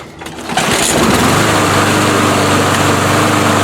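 A Yard-Man 21-inch self-propelled mower with a Briggs & Stratton engine is primed and pulled, catches after a brief sputter, then runs at a steady, loud, close drone until the end.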